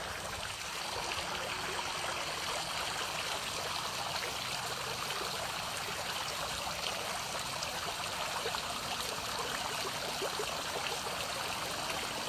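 Water from a small garden stream trickles and burbles continuously, a steady close, soft splashing wash with no voices over it.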